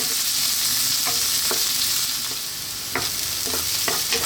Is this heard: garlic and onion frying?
yes